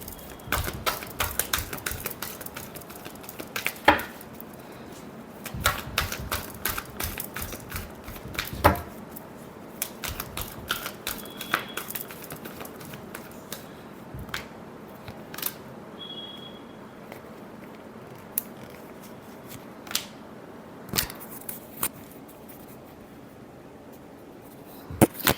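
Tarot cards are shuffled over and over, sharp irregular riffles and taps with scattered louder snaps and softer shuffling between, close and dry with no voices.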